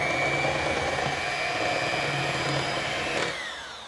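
An electric mixer beating milk into cake batter, whirring loud and steady close by, then winding down in pitch and fading as it is switched off near the end.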